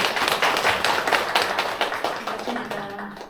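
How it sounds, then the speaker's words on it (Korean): A church congregation at a women's devotional worship service claps together, a dense burst of many hands that stays loud and then tapers off over a few seconds. "박수로 모시겠습니다"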